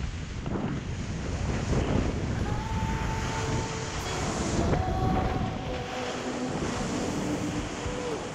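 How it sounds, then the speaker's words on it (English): Ocean surf off Block Island, heard while surfing steep, high waves: a steady, loud wash of breaking water and rushing foam, heavily buffeted by wind on the microphone, with no talking. "Oh, here's a wave."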